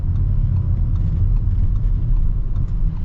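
A 2025 Audi RS6 Performance wagon accelerates, its engine producing a deep, steady rumble heard from inside the car, loud and continuous over a few seconds with no talking.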